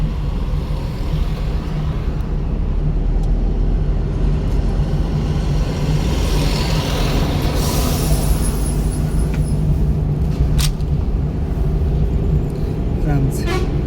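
A car engine revving loudly and steadily under acceleration with a deep constant roar up close, a few brief clicks and a high whine near the end, and a voice speaking faintly under it.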